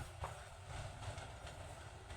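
A small yellow children's train rolls past in Luang Prabang, Laos, with a faint, steady rumble and soft wheel clatter heard from a distance.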